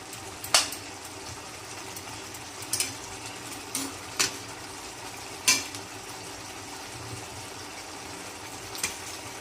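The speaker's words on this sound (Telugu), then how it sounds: "వంకాయ అండ్ ఆలు కర్రీ రెడీ విత్ టమాటోస్. బాగా కుక్ అవ్వాలి." Brinjal and potato curry with tomatoes cooks in a pan, giving a soft continuous sizzle broken by several sharp scrapes and clinks of a spoon stirring against the metal.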